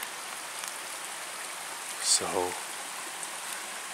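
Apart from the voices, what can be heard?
stream running loud with water after rain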